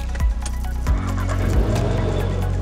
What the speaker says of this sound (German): Jetzt starten wir den Motor